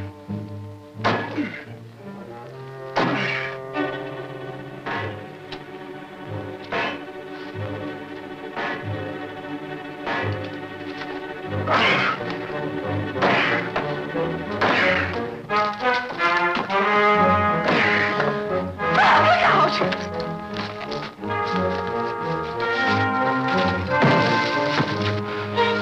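Film sound effect of rusted metal bars being broken through in a passageway, heard as a series of heavy thunks and metallic whacks with ringing clangs. The blows repeat irregularly over music-like resonances for about twenty-five seconds, close and loud.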